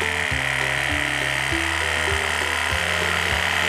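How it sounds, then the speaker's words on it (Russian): Toy electric jigsaw from a children's woodworking machine set cutting thick plywood, a steady high motor whine with rhythmic low thumps as the blade strokes through the wood, close and loud throughout. "Итак, смотрите, я смог распилить достаточно толстую фанерку."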